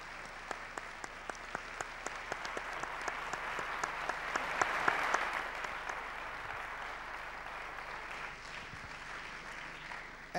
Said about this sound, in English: We should join a big round of applause to thank our